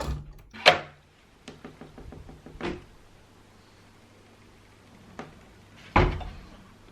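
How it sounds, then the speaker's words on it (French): Sharp knocks and bangs against a wooden door inside a home, a few loud close thuds with short rapid rattles between them and quiet gaps. "Il y a quelqu'un qui vient de frapper ma porte."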